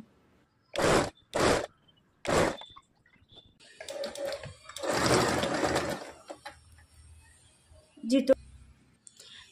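A sewing machine stitches along the edge of piping on a blouse. It runs in three short rapid bursts, then a longer steady run, loud and close, with a brief murmur of a voice between the runs.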